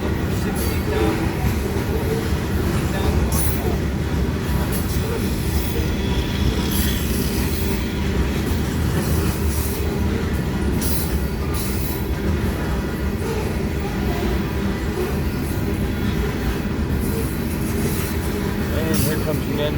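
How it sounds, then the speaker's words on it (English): A loaded freight unit train of grain rolls past near Blair and Fremont, Nebraska, a loud, continuous rumble of heavy railcars with steady wheel clatter and occasional metallic squeals from close by. "Here comes the end of our unit train of"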